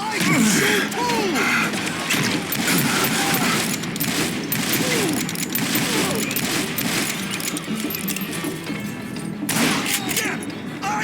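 In the Call of Juarez: Gunslinger Western shooter, loud gunfire runs in dense, rapid volleys with thuds and impacts throughout. Voices and shouts come and go beneath the shooting.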